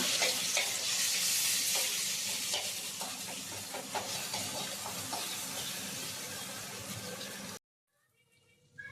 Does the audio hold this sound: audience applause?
no